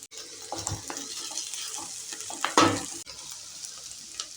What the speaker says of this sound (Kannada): ಸೊಪ್ಪು ಹಾಕಿದ ನಂತರ ಎಲ್ಲ ಒಂದ್ಸಲ ಮಿಕ್ಸ್ ಮಾಡ್ಕೊತಾ ಇದ್ದೇನೆ